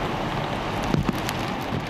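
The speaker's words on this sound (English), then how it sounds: "Since this morning, an intense rain band has swept across Hong Kong, ushering in heavy downpours citywide." Heavy rain pours down across Hong Kong, a dense, steady hiss of downpour drumming on surfaces, with a few sharper drop impacts standing out from the constant wash.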